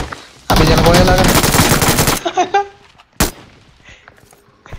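Loud, rapid automatic gunfire in PUBG Mobile, a dense sustained burst for about two seconds followed by a few scattered shots and one sharp single crack, close and dominant.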